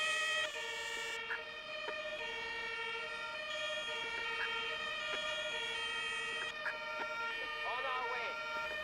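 A fire engine siren wails in the Emergency 4 game with the Wegberg7 modification, its rising and falling tones steady and prominent over engine rumble, with a voice talking over it and a brief whoop near the end.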